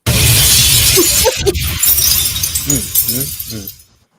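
Glass shattering as a sound effect, a loud broad crash with scattered breaking debris at the start, then settling while people talk over it.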